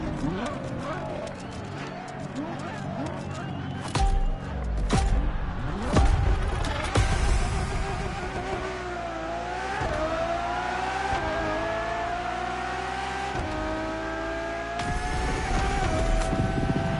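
A Ferrari Enzo supercar in the racing game The Crew Motorfest, its engine revving and shifting through rising, climbing tones, with someone narrating over it.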